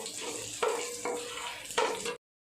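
Cumin seeds sizzle in hot oil, a steady close hiss with a couple of brief stirring knocks against the pan, ending abruptly in silence; no voices.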